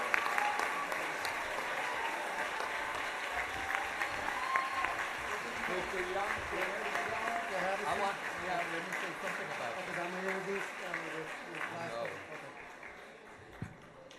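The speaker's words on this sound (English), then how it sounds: "Let's give them a great round of applause." Audience at a Miami-Dade College volunteer service award ceremony applauds steadily for about fourteen seconds, a dense, even wash of clapping that tapers slightly at the end, with some talk mixed in.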